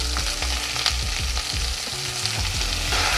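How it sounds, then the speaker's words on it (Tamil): Onion and garlic sautéing with cumin and fennel for a Tamil tomato curry, a steady close sizzle with repeated stirring scrapes and clinks throughout, no talk. "லேசாக வெங்காயம் சுருங்குற வரைக்கும் ஒரு 2 நிமிஷம் வதக்கலாம்."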